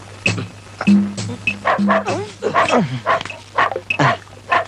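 A person mimics a dog with a series of yipping, barking sounds, uneven and close, mixed with whimper-like vocal noises.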